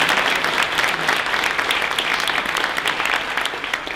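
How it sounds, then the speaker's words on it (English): A room full of people claps steadily at an aldermanic candidate forum, a dense, even patter of many hands lasting the whole stretch, near and moderately loud, with no voices over it. "if we could give them a round of applause as we begin"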